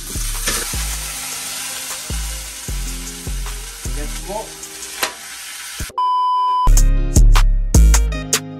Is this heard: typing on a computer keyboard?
no